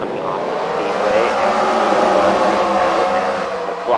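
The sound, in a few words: pace car driving off the speedway, race car engine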